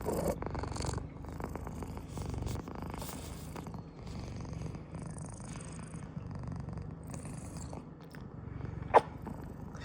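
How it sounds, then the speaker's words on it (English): A cat purring steadily up close, a continuous low rumbling throb with a brief sharp click near the end. "Listen to the purring."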